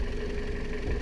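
Toyota Celica 1.8 VTi, a 143 hp car with about 230,000 km, idling quietly with the hood open, a low, even engine hum with steady drone, ending on a brief louder thump.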